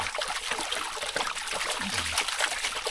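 Muddy water sloshing and swirling as it is agitated in a gold pan at a bush camp in Kippara State Forest, NSW, a steady close trickling wash with no talk.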